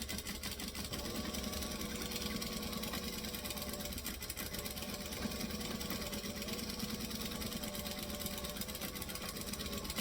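A sewing machine runs steadily, stitching fabric with a back stitch as it works along a pattern piece for a Frankie bag, a continuous mechanical whir at close range with no talking.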